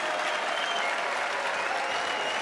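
A large audience at the Red Bull Wololo Londinium esports grand final, an Age of Empires event, claps and cheers in a dense, continuous wash of applause, loud and sustained throughout.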